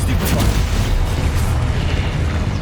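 Spell blasts in the Hogwarts Legacy video game erupt as a loud, dense rumble of booms and bursts that runs continuously through the moment.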